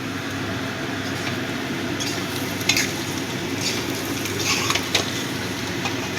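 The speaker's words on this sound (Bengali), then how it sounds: "এবার ধনেপাতাটাও মিশিয়ে দেব।" Fresh coriander leaves are stirred into cumin potatoes frying in a pan: a continuous close sizzle with a few light scraping strokes of a spatula scattered through it.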